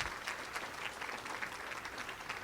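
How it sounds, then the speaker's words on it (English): Faint applause from a conference audience at an elder advocacy and law boot camp, soft scattered clapping heard from a distance at low volume. "let's give a round of applause for Amy and Bob"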